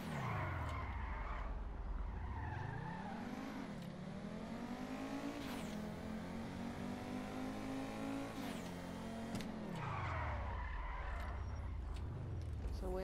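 A car in Grand Theft Auto 5 revs hard, its engine pitch climbing and falling as it accelerates and shifts, with squealing tires skidding through turns, loud and close throughout.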